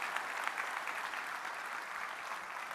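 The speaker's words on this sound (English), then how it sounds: "let's give ourselves and everybody a big round of applause for making the show happen" At the FlightSim Expo 2025 live stream, a crowd gives a brief, fairly quiet round of steady clapping heard from some distance.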